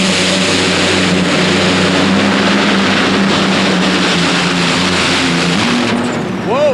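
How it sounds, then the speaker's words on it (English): A fuel-injected Allison aircraft engine drives a modified pulling tractor at an indoor tractor pull in the New Orleans Superdome, a loud sustained roar with steady low harmonics filling the whole stretch, rising in pitch near the end. "Another fuel-injected Allison aircraft engine-powered machine"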